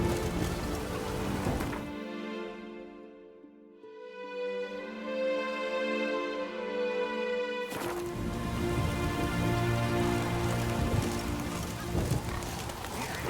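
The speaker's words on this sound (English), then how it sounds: "Raining fucking buckets." Heavy rain in The Witcher 3, a dense steady hiss of downpour close around, briefly giving way to a muffled interior hush before the loud rain returns, with faint hoofbeats mixed in.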